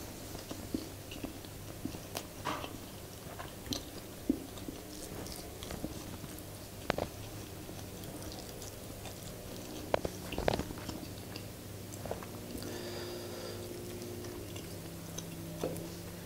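Someone eats rice with sambal and tongkol fish in a homemade mukbang. Soft, close chewing and small bites repeat irregularly, with faint clicks and crunches over a quiet room hum.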